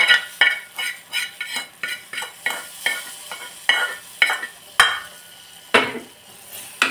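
Carrot halwa scraped and stirred around a pan with a spoon in steady, repeated strokes, each one a close scratchy swish over a soft sizzle, with no voices.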